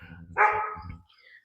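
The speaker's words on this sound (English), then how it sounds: "She likes to stand there and bark." A farm dog standing in place barks once loudly and close, with a few softer follow-up sounds trailing off afterward.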